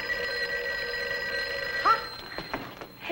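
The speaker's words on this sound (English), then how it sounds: "The phone's ringing. It should be answered." A telephone bell rings steadily with a metallic, continuous trill, then cuts off, leaving a few soft rustling and knocking sounds at close range.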